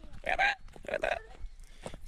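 A man's hiccups at a riverside camping and fishing spot, a few short abrupt catches spaced unevenly, fairly close but soft, with quiet outdoor background between them.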